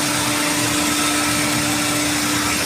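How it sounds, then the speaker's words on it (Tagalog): Loud, unbroken machinery roar from a running 40-horsepower cooling tower condenser unit, a steady hum layered with airy rushing noise throughout. "Ito naman guys yung condenser nya."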